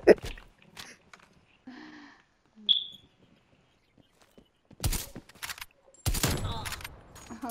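Gunfire in a sniper-focused video game shooter, heard as a few scattered sharp bursts and a louder cluster of shots near the end, mixed with game effects while players talk and laugh over it.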